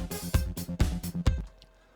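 In the Reason DAW, a short programmed drum pattern plays kick and snare hits with open and closed hi-hats, a few punchy beats ending in a brief decaying tail.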